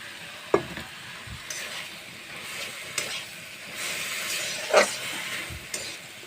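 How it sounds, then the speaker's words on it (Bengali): Fried dried fish stirred into taro flowers and spice paste in a pan, a steady sizzling hiss broken by scraping, knocking stirs of a spatula against the pan. "ভাজা রাখা শুটকিগুলো দিয়ে দিচ্ছি।"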